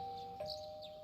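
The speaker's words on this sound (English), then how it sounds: "That's the sound of a doorbell." A doorbell rings inside the video game Persona 4 Golden as a faint two-tone chime that steps down in pitch partway through. Light chirping tweets sound in the background.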